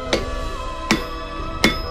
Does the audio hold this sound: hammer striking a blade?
yes